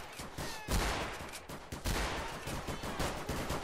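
Dense, continuous gunfire in a Garry's Mod battle between cops and robbers: overlapping rapid shots and volleys from several weapons, loud and close, with no pause across the whole stretch.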